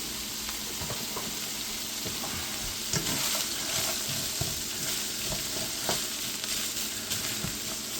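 Chopped onion and green peppers cook down in a single pan for unstuffed peppers, giving a steady, dense sizzle with scattered small clicks and pops from stirring, close and even throughout.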